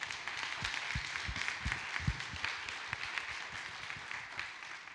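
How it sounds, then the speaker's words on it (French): A seated audience at a French public talk on endometriosis applauds softly and steadily for a few seconds. The clapping sounds distant and faint, with a few louder low thumps mixed in. "Bravo, on vous applaudit très fort."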